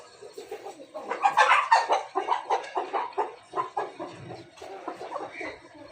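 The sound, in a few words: Chinese rooster (chini murga) clucking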